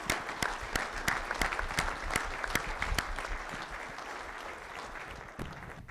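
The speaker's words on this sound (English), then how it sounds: "let's give these guys a round of applause for being here." A room full of people at a livestock development panel at the 2012 South Dakota Governor's Ag Summit applauds the panelists. Dense, steady applause runs throughout, with one nearby clapper's sharp, regular claps standing out before it thins near the end.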